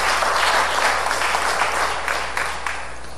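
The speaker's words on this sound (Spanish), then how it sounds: "Denle un aplauso al Señor." A church congregation bursts into applause during a sermon, a short, loud, dense round of clapping that tapers off gradually, with a low hum beneath.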